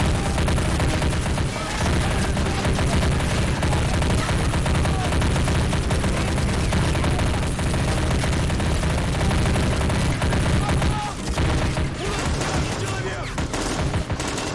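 Dense gunfire exchange in the war video game Army Men of War, with continuous rattling shots and bursts throughout, loud and sustained with a brief lull near the end.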